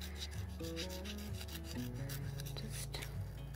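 Scissors cutting card paper give faint, continuous rasping and rubbing strokes, quiet under a light background melody.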